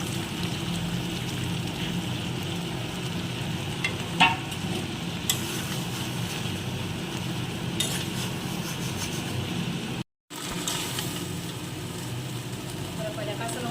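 Jackfruit stirred and fried in spice masala: a steady sizzle with scraping of a spoon through the pan throughout, while someone talks over it.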